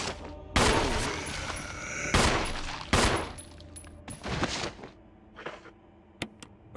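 Gunfire in the video game Resident Evil HD Remaster, with several loud, sharp shots in bursts and decaying echoes between them, followed by fainter clanks.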